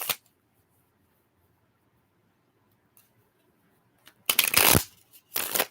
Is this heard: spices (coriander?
no